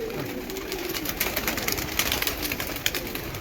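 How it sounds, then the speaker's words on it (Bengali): A pigeon being let go from the hand coos softly amid short, sharp fluttering taps, close and fairly quiet with no talk. "পায়রা বেরোচ্ছে"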